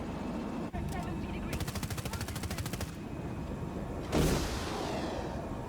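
A stealth helicopter's cannons fire in the video game Battlefield 2042, giving a rapid, evenly spaced burst of shots lasting over a second. A heavier boom follows amid constant engine and battlefield noise.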